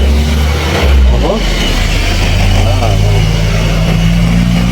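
Vehicles of various kinds roll past along a farm road beside Monterey Farm, with a steady, close engine rumble under continuous talk from a man nearby.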